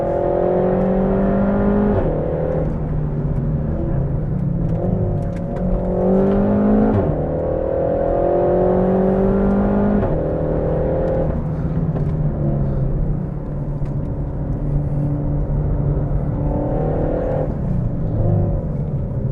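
A 300 bhp Renault Sport Megane Trophy with an automatic gearbox accelerating hard on a race track, its engine note climbing repeatedly through the gears with rising pitch sweeps and brief dips at each shift, loud and continuous with no talk.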